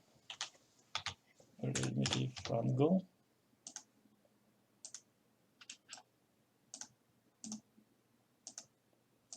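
Keys clatter on a computer keyboard as code is typed: a dense burst of rapid keystrokes around two seconds in, with scattered single clicks before and after, close and fairly quiet in an otherwise still room.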